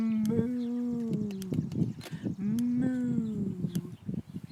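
A human voice imitates a tired cow, drawing out two slow, low, sagging moos close to the listener, with faint background noises between them.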